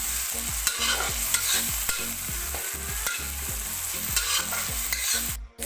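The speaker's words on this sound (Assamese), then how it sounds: "আৰু এতিয়া এইখিনি মই কেঁচা গন্ধটো যোৱালৈ ভাজি থাকিম।" Ginger-garlic paste with onions and turmeric frying in a pan, a steady close sizzle with rhythmic scraping stirs repeating every half second or so, no voices.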